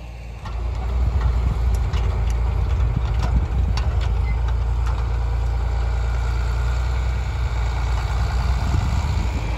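A tractor pulling a seed planter through a field for pea planting makes a steady, loud low engine drone with some mechanical clatter, heard close up for the whole stretch without talk.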